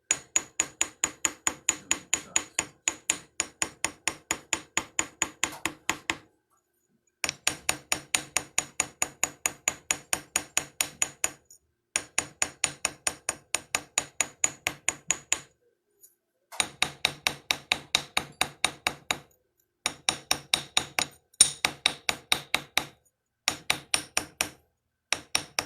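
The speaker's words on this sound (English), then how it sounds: "I'm using the ball peen part of the chasing hammer." A ball peen chasing hammer taps fine silver chain links in fast, even bursts of light metallic strikes, close and crisp, pausing briefly between runs.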